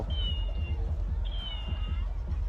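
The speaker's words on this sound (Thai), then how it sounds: "ไอ้แมวนี่มันมีเสียงเลยนะเนี่ย" A toy cat gives a high, electronic-sounding meow twice at the Phra Samut Chedi temple fair, over a background of rumbling noise and murmuring voices.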